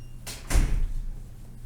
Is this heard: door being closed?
yes